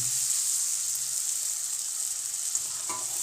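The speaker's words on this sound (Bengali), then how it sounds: "টমেটো ভাজা হয়ে গেছে, এরপর এর মধ্যে বেটে রাখা মশলা দিয়ে দিব।" Ground spice paste hits frying tomatoes in a pan for alur dom, giving a loud, steady sizzle with a faint scrape of stirring toward the end.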